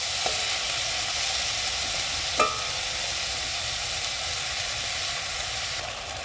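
Vegetables with salt and turmeric fry in a pan, giving a steady close sizzle, with one brief utensil clink from stirring partway through and no talking.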